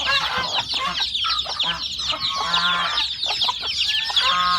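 Chickens on a Thai farm cluck and chatter continuously, several birds close by with overlapping calls and short squawks in an uneven, busy rhythm.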